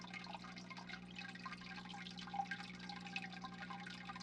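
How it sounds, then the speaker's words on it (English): Soft, steady aquarium water flow with light dripping and bubbling over a low hum of equipment, quiet and continuous with no voices. "Water flows softly. Bubbles rise slowly."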